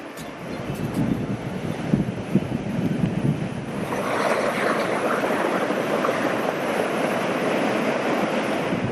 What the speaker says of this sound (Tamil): ராமேஸ்வரம், காரைக்கால் பகுதிகளில் கடல் சீற்றம்